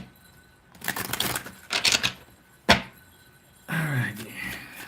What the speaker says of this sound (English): I'm gonna shuffle real quick for that question.